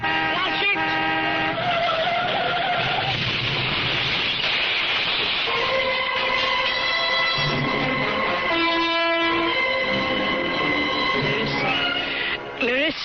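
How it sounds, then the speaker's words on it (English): Radio drama sound effect of a car skidding and crashing, with a long screech of tires and engine roar mixed with music and voices, loud and continuous throughout. "was that the sound of a car crash?"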